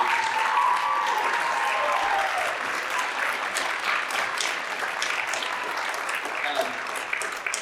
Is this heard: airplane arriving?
no